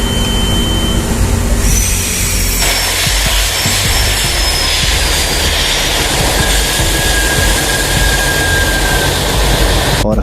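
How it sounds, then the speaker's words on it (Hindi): Loud, continuous drone of a large ship's engines as the vessel leaves port for a ship-to-ship oil transfer, a steady rumble with faint high whines running throughout, no talking. "जहाज़ पोर्ट से निकलने के लिए रेडी और इंजन्स को स्टैंड बाय कर दिया गया है।"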